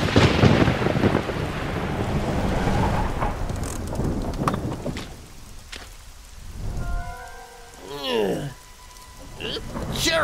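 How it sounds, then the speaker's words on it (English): Heavy rain pours steadily in an animated movie, with thunder rumbling, a loud wash of downpour early that eases a little, and some faint voices and animated effects toward the end. "Sure is raining hard."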